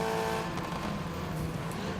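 A rally car engine races in the Gravel video game, a steady mid-pitched roar with a sustained drone under light gravel and tire noise, no voices.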